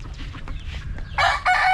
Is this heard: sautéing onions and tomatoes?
no